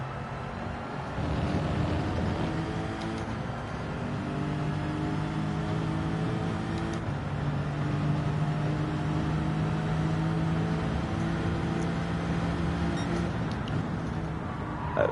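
A BTCC touring race car in Gran Turismo 7 on PlayStation, its engine droning steadily at a sustained pitch with gentle rises in revs, loud and continuous throughout with no talking.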